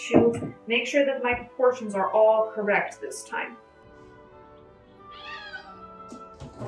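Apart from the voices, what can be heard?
cat screaming in the background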